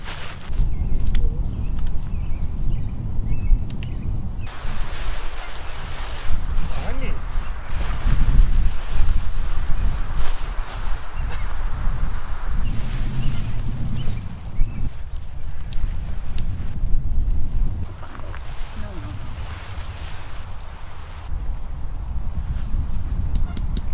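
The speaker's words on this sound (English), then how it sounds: "it's quite a bit windier here than I thought it was going to be" Strong wind batters the microphone at a lakeside campsite on a remote lake, a loud continuous rumbling buffet with gusts rising and falling throughout, close and unbroken, with no speech.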